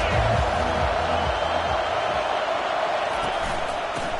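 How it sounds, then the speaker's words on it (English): A college football stadium crowd roars in a dense, steady wall of noise as the Minnesota Golden Gophers offense takes the field, with a commentator speaking over it. "They are pinned deep, and this crowd is letting them have it."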